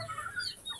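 A hen clucks in a short burst of soft, close calls, heard alone for under a second.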